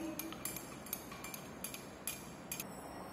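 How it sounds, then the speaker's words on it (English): Lab glassware being stirred while mixing a liquid paraffin solution, a series of light, irregular glassy clinks over a faint background hiss. "now we will going to add the liquid paraffin into it. Then we will stir this solution properly."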